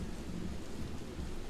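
A thunderstorm in the medieval video game The Pillars of the Earth: steady, loud rain with deep rumbling thunder rolling continuously underneath, no voices.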